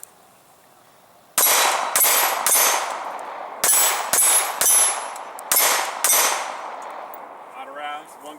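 A Glock 19C compensated 9mm pistol fires about nine sharp, loud, close shots in uneven bursts, each with a ringing metallic tail, then a faint mechanical click at the end and no talk.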